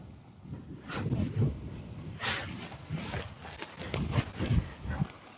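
A horse walks through ground poles during a training session, with irregular hoof thuds and clops landing close by against outdoor ambience and a few scattered noises.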